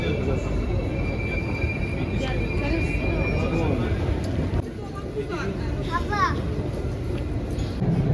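A metro train pulls into an Istanbul station, making a steady, loud rumble with a faint whine running through it and background voices mixed in.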